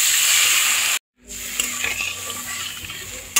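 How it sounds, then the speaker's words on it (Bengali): Water is poured into a sizzling, oil-separated spice masala for egg omelette curry: loud frying hiss, a sudden brief gap, then a softer bubbling sizzle with light clinks. "এবার এর মধ্যে আমি জল দিয়ে দেবো।"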